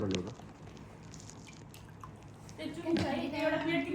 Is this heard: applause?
no